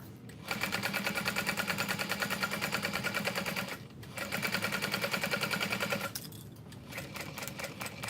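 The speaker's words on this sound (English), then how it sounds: "And now we're just going to sew around the outside edge." A sewing machine stitches around the outside edge of a messenger bag at a long stitch length in loud, rapid, evenly pulsing runs, broken by short pauses and ending in a slower, softer stretch.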